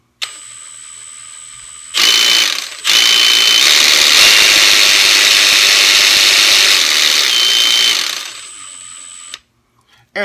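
A cordless 20V reciprocating saw with a variable speed trigger whirs up to a loud, steady buzzing run for several seconds, then winds down. A fainter motor hum sounds before and after, close to the microphone.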